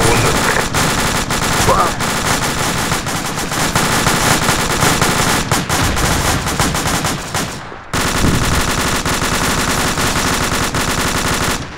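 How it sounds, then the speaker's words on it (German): Sustained loud machine-gun fire in a team-based video game, dense rattling bursts with a brief break near the end before the shooting resumes, and voices talking underneath. "Hier, jetzt schießen sie zurück"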